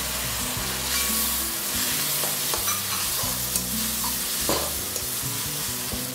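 Masala sizzles steadily in a pan after tomatoes go in with onions, with a spoon scraping and stirring in irregular strokes, close and fairly loud with no talking.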